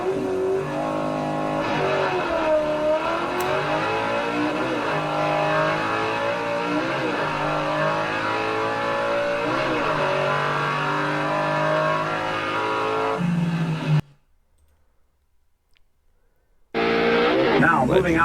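Pro Stock drag cars, a Chevrolet and a Dodge, roar in a sustained, loud run with rising and falling engine pitch. The noise cuts out briefly near the end and then resumes.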